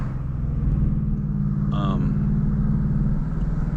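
A Ford Mustang Mach 1 on a daytime drive, heard from inside: a steady, deep engine rumble dominates throughout, with someone talking over it.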